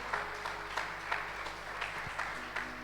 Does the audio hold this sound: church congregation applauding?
yes